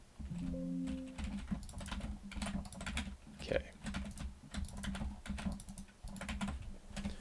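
Keyboard typing and mouse clicks while working in Hammer Editor: a steady run of quick, close clicks and key taps, fairly faint, with soft background noise.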